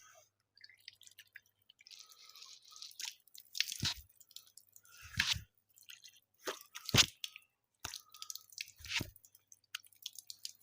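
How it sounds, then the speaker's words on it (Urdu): Water splashed onto the face by hand during wudu ablution, heard as a series of separate wet splashes and drips spaced a second or two apart, close up with no talking. "اس طریقے سے چہرہ دھونا ہے"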